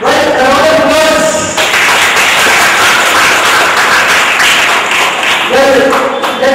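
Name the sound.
audience applause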